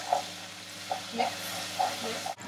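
Garlic is stirred in a hot pan with vinegar added, giving a soft steady sizzle with a few faint scraping strokes of the utensil, ending in a brief knock.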